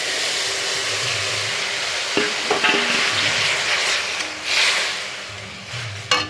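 Vermicelli frying in ghee in a pan for banana milk payesh, a loud steady sizzle with scraping stirs and clinks of the spoon against the pan.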